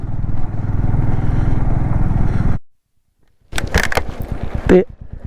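A motorcycle labouring uphill on a poor mountain road toward Chitkul: a steady close engine drone for a couple of seconds cuts out, then bumpy clattering and rumbling resume.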